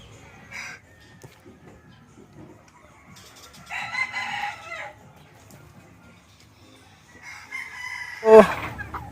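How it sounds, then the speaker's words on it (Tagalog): Turkeys calling in short bursts, a few separated squawking calls with quiet gaps between them, moderately close. "Yan po yung aking mga pabo."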